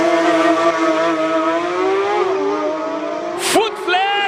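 A Porsche GT3 RS race car accelerating hard up a hill climb course in Cape Town, its engine note rising steadily through the gears with a sharp shift and crackle near the end, loud and close.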